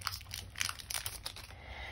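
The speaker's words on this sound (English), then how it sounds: "Gina, open up your final pack" Crinkly plastic wrapper of a Pokémon trading card booster pack being torn open up close, a quiet series of sharp crackles and rips lasting a couple of seconds.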